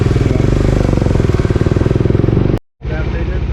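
A lowered Bajaj Dominar 400 motorcycle engine runs with a loud, close, rapid thumping beat, then cuts out for a moment before the steady pulsing returns.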